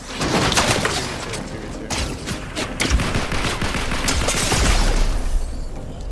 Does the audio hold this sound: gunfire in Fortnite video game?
yes